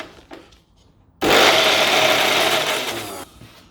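A food processor whirs into action on chickpeas, water, oil and salt for hummus, starting abruptly after a quiet moment and running as a loud, steady motor roar for about two seconds before cutting off.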